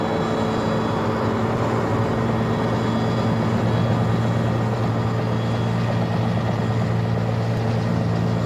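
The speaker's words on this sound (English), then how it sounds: "For this purpose, a fleet of helicopters is employed" Loud, steady whir of a military helicopter flying nearby in the 1980s South African Defence Force, its rotor drone holding constant throughout with no voices.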